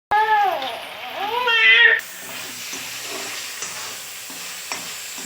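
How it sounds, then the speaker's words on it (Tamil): An okra curry base sautés in oil with salt, a soft sizzle and scraping stir under a loud, pitched sound at the start, then quieter frying with occasional clicks. "உப்பு போட்டு வதக்கிக்கலாம்."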